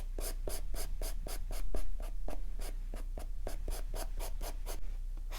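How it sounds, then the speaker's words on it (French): A Posca paint marker drawing on paper in quick, regular back-and-forth strokes, each a crisp scratchy swipe, close and steady with no talk. "je vais dessiner au Posca pour que ce soit beaucoup plus sympa"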